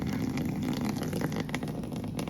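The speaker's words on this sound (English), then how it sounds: "Here's the water trickling in there." Water from a hose off an outdoor spigot trickles and splashes into a tank at a tiny house, a steady, close rushing flow with no talking.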